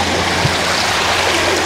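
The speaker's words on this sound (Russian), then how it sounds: "Накатываются волны, так и нежно" Sea waves roll steadily onto a beach after a flood, heard as a loud, continuous broadband wash of surf close by, with no voices.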